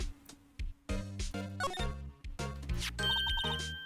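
A telephone rings in the Ace Attorney video game, a short burst of repeated electronic tones closing out a stretch of game music and sound effects.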